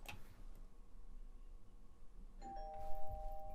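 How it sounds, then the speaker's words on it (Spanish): An Amazon Alexa device plays a doorbell sound effect, a clear chime that rings out sharply partway through over a quiet room background. "pues ha sonado un timbre"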